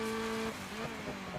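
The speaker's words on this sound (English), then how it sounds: "if you guys are hearing that sort of a shrill manicky whine coming from the Nomad, that's the supercharger" Shrill supercharger whine from a supercharged Honda-engined Ariel Nomad in the DIRT 5 racing game, a steady high tone over engine drone that drops away after half a second into rougher engine noise.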